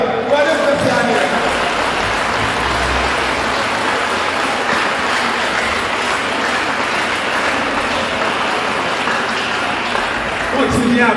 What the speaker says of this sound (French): Continuez à applaudir, continuez à applaudir